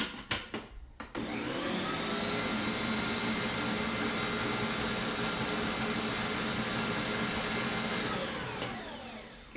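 An electric mixer whirs steadily through funfetti breakfast muffin batter, a loud, even motor drone lasting several seconds after a few brief clatters at the start, then winding down at the end.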